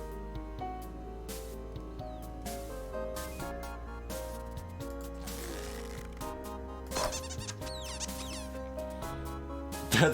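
Goat bleating sound effect for an animal refuge card in a deck-building video game, several wavering bleats over a busy layer of in-game music and effects, moderately loud throughout.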